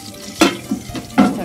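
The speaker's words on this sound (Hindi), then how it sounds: "तो अभी तड़का भी लगाती हूँ।" Hot oil sizzles in a pan with a few sharp bursts and scraping stirs as spices are tempered for dal, close and brief.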